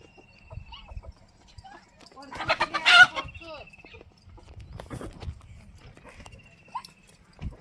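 A rooster crows loudly once while chickens cluck around it in short scattered bursts, with voices murmuring in the background.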